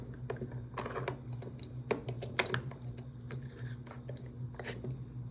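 A glass lid is handled during a holiday craft project, giving several light, close clinks and taps of glass against hard surfaces, separated by short pauses with no talking.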